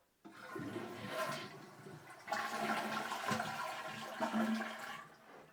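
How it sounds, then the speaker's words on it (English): A toilet fitted with a Fluidmaster flapper flushes loudly up close after a repair to its flapper chain, with a rushing surge, then a second swell of swirling, draining water and gurgles. "And we have a flushing toilet again."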